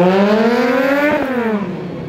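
Stunt motorcycle at a motorcycle festival show in Bourbourg revving hard, its loud, buzzy engine climbing steadily in pitch before a gear change drops it, then rising again.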